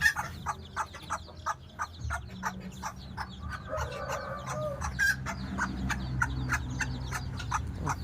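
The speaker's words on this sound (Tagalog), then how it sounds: "Ang sisiw." Bantam chicks and chickens peep and chirp in quick repeated bursts close by. Low clucking from the adult birds runs underneath and grows busier toward the end.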